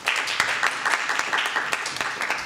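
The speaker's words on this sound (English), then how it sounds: "Please give him a warm applause." A short burst of audience applause, many hands clapping together in a steady patter from start to finish.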